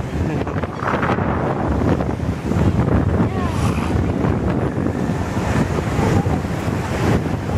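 Sea waves wash and rumble at the beach while strong wind buffets the microphone, a loud, rough, continuous noise with no clear voices over it.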